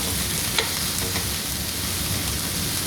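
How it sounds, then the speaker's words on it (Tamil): Tomatoes and tamarind frying with browned onions in a pan for kadamba chutney: a steady, close broadband sizzle running throughout, with a few brief stirring clicks of a spoon against the pan and no talking. "தக்காளி, அதோட புளியும் இப்போவே போட்டால் நல்லா வதங்கிடும்."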